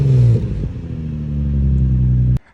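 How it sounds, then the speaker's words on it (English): Infiniti G35 engine with a full Motordyne exhaust gives a single quick rev, a close, loud throaty rumble that swells and holds before cutting off abruptly. "Give it like a quick rev."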